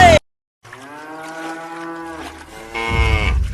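A single cow on a village farm lets out a long, drawn-out moo that rises and holds for about two seconds after a brief silence, loud and close, ending in a rougher, noisier burst.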